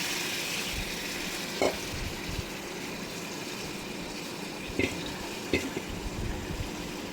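Onions frying in white oil in a pan on a burner for biryani, a steady broadband sizzle running throughout with a few brief clinks or stirs standing out, no talking.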